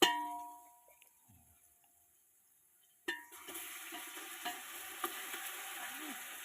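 Onions fry with ginger garlic paste in a pan for chicken biryani, a quiet start with a clang giving way to a steady, faint sizzle and occasional stirring scrapes.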